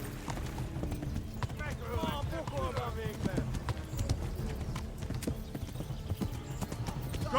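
Horse galloping in the medieval video game Kingdom Come Deliverance, a steady rapid clip-clop of hooves continuing throughout, moderately loud with some ambient game noise and a short whinny-like tone.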